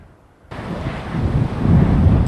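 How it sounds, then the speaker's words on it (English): Hot, dry Santa Ana winds gusting over 50 miles per hour in the mountain passes of San Diego's East County, a loud roaring buffet that begins abruptly and swells steadily, battering the microphone. "The winds have been gusting nonstop over 50 miles per hour throughout the mountain"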